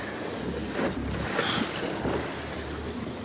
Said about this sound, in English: The engine ticking over all the time, just watching out to sea, watching here.